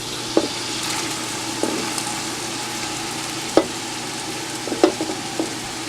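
Onions, garlic, green onions and chopped jalapeño sautéing in a pot, an even, moderate sizzle with occasional knocks of a stirring spoon against the pot.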